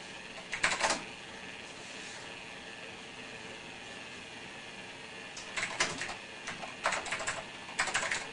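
An old computer keyboard on a DOS-era PC is typed in short clattering bursts of keystrokes, separated by quiet pauses, close to the microphone.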